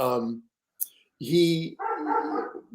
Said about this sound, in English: My dog goes crazy.